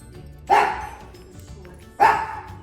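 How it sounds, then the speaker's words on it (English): Two sharp dog barks, about a second and a half apart, ring out close by against a quiet room with a faint low hum. "Hanging out with the dogs."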